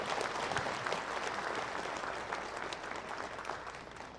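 Church congregation applauding during a Sunday worship service, a dense, even patter of many hands clapping together at moderate volume, steady throughout and easing slightly near the end.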